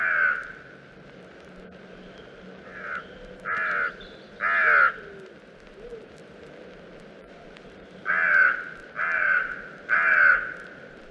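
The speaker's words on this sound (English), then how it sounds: "The carrion crow has a deep hoarse caw that often punctuates the other bird sounds of March." A carrion crow gives a series of deep, hoarse caws in a woodland or garden setting: single calls, then a quick run of three, a pause, and another run of three, loud and close.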